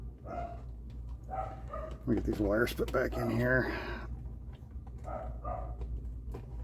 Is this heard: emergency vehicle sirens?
no